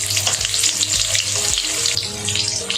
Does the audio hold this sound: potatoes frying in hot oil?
yes